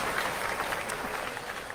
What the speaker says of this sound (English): Yeah, you better clap, Titus.